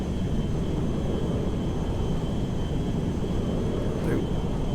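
A JetBlue Airbus A321neo jet rolls for takeoff in GTA 5, a steady, fairly quiet engine roar and runway rumble that holds evenly throughout, with faint talk over it.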